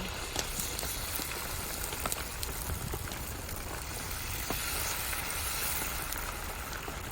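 Banana dosa batter spread on a lightly oiled pan gives a soft, steady sizzle with scattered faint crackles, continuous and close, with no voices.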